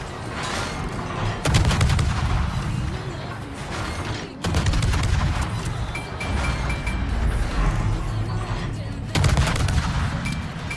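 Naval guns fire armor-piercing shells in World of Warships, aboard the Japanese destroyer Akizuki: three loud, booming salvos spaced a few seconds apart, each with a heavy low rumble that lingers and fades, over continuous engine and battle ambience.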